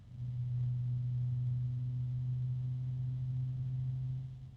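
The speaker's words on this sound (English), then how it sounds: "This is a noisy fan." A noisy Lenovo P14s laptop fan gives off a steady tonal whine, fairly quiet and alone, swelling in at the start and tapering off at the end.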